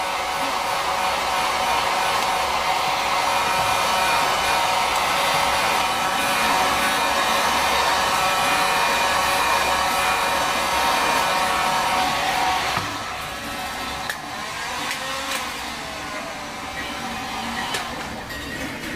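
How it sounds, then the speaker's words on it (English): Heat gun on a low setting blowing over primer on a USS Yorktown CV5 model, a steady loud whooshing drone that drops slightly in level near the end. "What I did is using heat gun, low setting, just run it over top of this to help dry it out a little bit, speed up the process."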